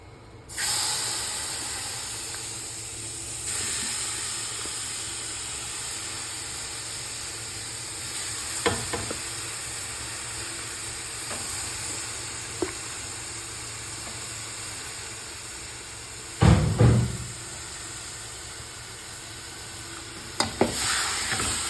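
Washed chicken pieces with salt sizzle steadily in a hot pan for the whole stretch, with occasional louder scrapes and clatters of stirring near the end.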